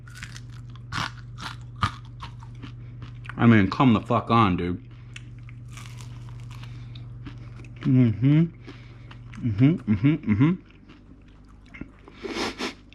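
Loud, crisp crunching bites into crispy Buffalo chicken wings, a cluster in the middle and a few more later, with brief talking in between.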